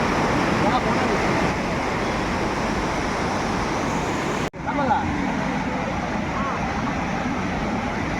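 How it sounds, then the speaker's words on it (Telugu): A strong river flowing in Kullu Manali makes a constant broad roar of rushing water that dips briefly partway through, with people talking over it. "ఈ ఫ్లో చూడు, ఎంత ఫ్లో వస్తున్నాయో వాటర్"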